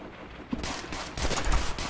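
Browning machine gun firing in Call of Duty 5, a dense burst of rapid gunfire that is loud and close and fills the whole two seconds.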